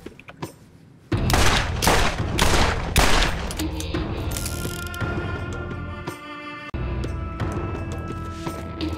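Rapid, loud seven-shot revolver gunfire in Borderlands, a burst of close heavy shots followed by sustained crackling and a second volley, over game background noise.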